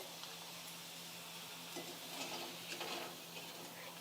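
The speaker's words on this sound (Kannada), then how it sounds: "ನಾನು ಹಪ್ಪಳ ಮಾಡ್ಕೊಂಡಿದ್ನೆಲ್ಲ ಇವು ಎಣ್ಣೆ ಬಿಡ್ತೀನಿ ನೋಡಿರಿ" Corn flour papad frying in hot oil gives a steady close-up sizzle and crackle, swelling briefly louder near the end, with no talking.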